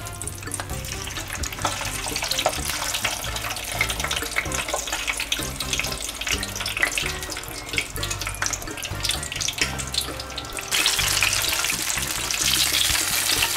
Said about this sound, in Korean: 이번에는 만두를 튀기도록 하겠습니다